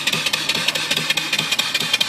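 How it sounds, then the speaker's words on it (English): A homemade steam engine driving an alternator runs steadily nearby, its soft regular chuffing beat repeating several times a second over a continuous hiss, with no voices. "The smoothest running engine I've ever built."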